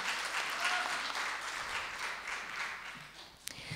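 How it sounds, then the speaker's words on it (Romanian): Applause from the audience at a Romanian light and folk music festival, a broad even patter of many hands that slowly fades toward the end, with a couple of sharp knocks near the close. "Bun, aplauze."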